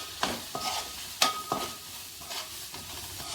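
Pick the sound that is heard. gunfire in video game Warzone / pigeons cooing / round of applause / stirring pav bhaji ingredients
stirring pav bhaji ingredients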